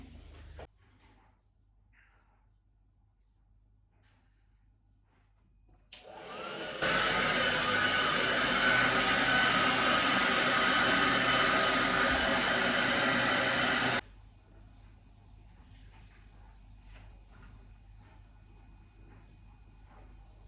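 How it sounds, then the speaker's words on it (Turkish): A hair dryer used to add volume to the front of the hair, switching on with a rising whoosh and blowing as a loud, steady roar for about seven seconds before cutting off, leaving quiet room tone. "onları da fön makinesiyle şöyle hafif hacimlendireceğim"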